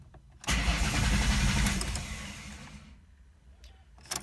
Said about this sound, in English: Let's see if the car starts up and backfires again.